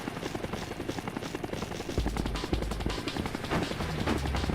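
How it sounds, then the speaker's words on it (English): Helicopter in the video game Like A Dragon: Infinite Wealth, a steady loud rotor chop with rapid rhythmic thumping, mixed with intermittent gunfire-like bursts and combat clatter. "Do I have to fist fight the helicopter?"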